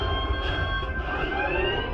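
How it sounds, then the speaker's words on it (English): An alarm sounds aboard a starship in a movie scene: steady high electronic tones ring over a dense rumbling engine-like background, continuous for the whole moment with no speech. "Sound the alarm."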